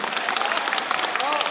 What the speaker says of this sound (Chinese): 再一次给我点掌声